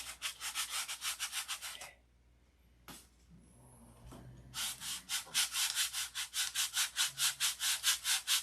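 Hand sanding with 320 grit sandpaper, a steady rhythmic back-and-forth scratching in quick even strokes, pausing for a few seconds midway before resuming, loud and close.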